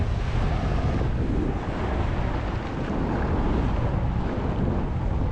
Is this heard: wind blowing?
yes